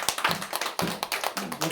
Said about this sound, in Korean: 다시 한번 박수 쳐드리겠습니다